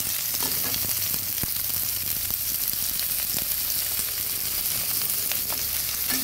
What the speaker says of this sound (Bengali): ভালো করে পেঁয়াজ রসুন কাঁচা লঙ্কাটা ভেজে নেব